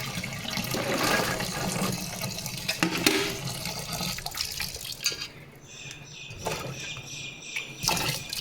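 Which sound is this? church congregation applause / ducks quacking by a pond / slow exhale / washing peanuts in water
washing peanuts in water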